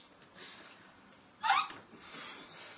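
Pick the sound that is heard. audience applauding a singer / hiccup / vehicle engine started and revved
hiccup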